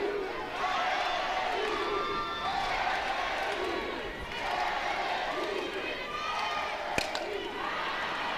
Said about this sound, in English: This crowd has been engaged, and they have been loud with Oklahoma in town.